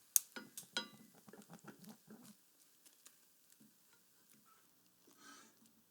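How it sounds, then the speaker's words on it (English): A spatula scrapes and pats through omelette eggs cooking in a pan, a run of soft, quick close scraping taps that thin out into faint, sparse touches and a quiet sizzle. "use the spatula to even out the eggs"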